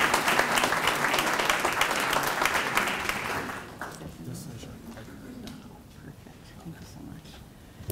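Audience applauds a presenting sponsor at a civic State of the Cities event, loud dense clapping for several seconds that then fades into quieter murmuring and scattered sounds.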